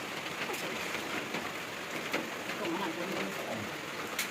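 Steady heavy rain falling on a surface in a forest, with scattered drips and taps standing out against the continuous hiss.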